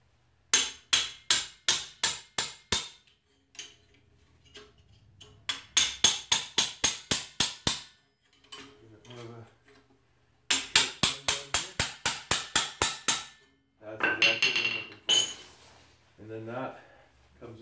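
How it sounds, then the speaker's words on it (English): A small metal wedge gets hammered into a corner in quick bursts of sharp, ringing blows, several strikes per run with short pauses between, close and loud, with some low talk between bursts. "I've actually just got this little wedge that I'm going to hammer into the corner here a bit more"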